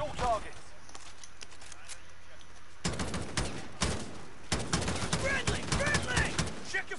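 Gunfire in the video game Call of Duty Warzone comes as sharp bursts of rapid shots in two clusters, fairly quiet and mixed with players talking over voice chat.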